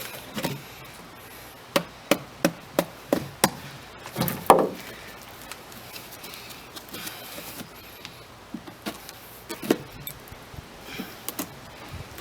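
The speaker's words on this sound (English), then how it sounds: "I'm just going to loosen it with my screwdriver and mallet" Screwdriver and mallet working cork bark loose: a series of sharp, close taps at a fairly regular beat, then sparser scattered knocks and scraping, with no talking.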